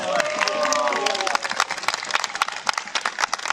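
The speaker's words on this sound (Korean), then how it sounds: "박수 박수" Crowd at a club cheering with voices at first, then breaking into loud, close clapping with uneven bursts that continue to the end.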